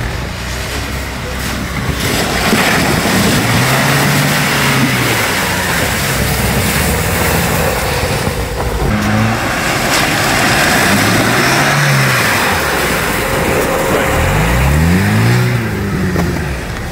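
A Renault Duster driving off-road over hilly terrain, its engine droning loudly and revving up and down in several waves throughout, with occasional voices inside the car.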